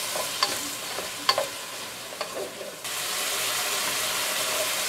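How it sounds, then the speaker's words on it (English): Chopped vegetables for a chicken pot pie sizzle steadily in a hot pan while a utensil scrapes and stirs them in a few distinct strokes, followed by an even, close frying hiss. "we're going to cook this for about 5 to 7 minutes, or until the veggies start to cook down and develop some color around the edges"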